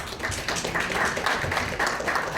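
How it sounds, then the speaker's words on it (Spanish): An audience at a book presentation applauds to welcome a speaker to the stage, a continuous wash of many hands clapping, fairly soft and sustained with no voices over it. "Recibámoslo con un fuerte aplauso"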